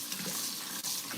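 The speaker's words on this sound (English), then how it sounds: "I gotta rinse some of this stuff" Tap water runs steadily into a kitchen sink to rinse chocolate cake batter off dishes, a constant close hiss with a slight dip near the end and no talking.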